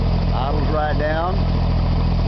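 A Hobart welding machine's engine idles down to a steady, low, even hum nearby, with a person speaking over it.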